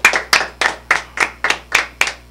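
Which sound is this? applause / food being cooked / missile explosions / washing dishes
applause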